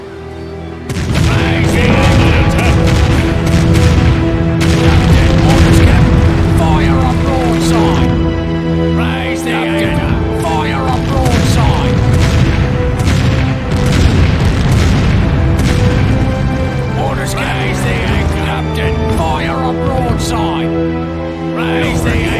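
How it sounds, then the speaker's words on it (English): Ship cannons firing broadsides in the video game Empire Earth, a dense run of repeated heavy booms and blasts over some twenty seconds, mixed with voiced game commands and background battle noise. "Fire a broadside!"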